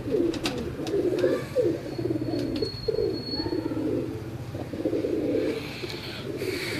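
Pigeons coo in repeated low, throaty rolling phrases, close and clear, with a few faint chirps and small noises around them and no speech.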